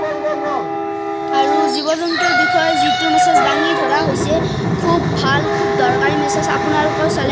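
A train passes at the Patacharkuchi Raas festival: a loud, close horn and wheel rumble run steadily under someone talking throughout.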